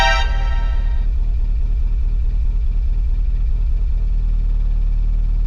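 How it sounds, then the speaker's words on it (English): A VW Golf GTI Mk7 engine runs close by with a slight misfire, a loud, steady low rumble pulsing with a faint uneven beat, no talking. "tiny misfire. Engine's a little loud,"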